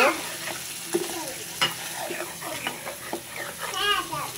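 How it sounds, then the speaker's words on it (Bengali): Fish frying in a pan is stirred, a busy sizzle broken by repeated spatula scrapes and clacks against the pan, with a voice faintly in the background. "মাছটা দিয়ে একটু নাড়াচাড়া করে দেব"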